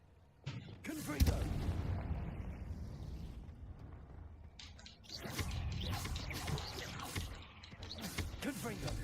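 Confringo fire spells going off in Hogwarts Legacy, several booming, crackling blasts in bursts with bright sharp snaps, mixed with someone talking over the game.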